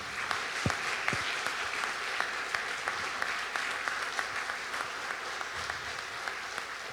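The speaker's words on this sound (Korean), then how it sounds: "정말 감동을 선물하신 우리 제니유 박사님께 다시 한번 큰 박수로 마무리하겠습니다" An audience at a university staff spiritual event claps steadily after a talk, a dense patter of many hands with a few sharp louder claps near the start, sustained throughout.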